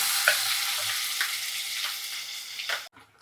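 Ground masala paste hits hot oil with garlic in a pan and sizzles loudly and continuously up close, with a few stirring scrapes, before cutting off abruptly near the end.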